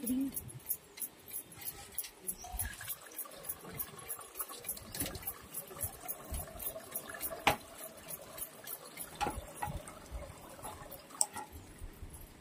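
Wet squelching and splashing of chicken being rinsed a second time in water, with small clicks and taps, fairly close and continuous.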